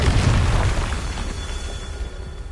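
A Confringo spell from Hogwarts Legacy bursts in a deep, heavy boom, one loud explosion up front that rumbles and slowly decays away.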